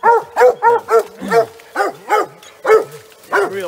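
Coonhounds bay and bark in a rapid, loud close run of yelping calls at a raccoon treed in a thick Maryland swamp during a night coon hunt.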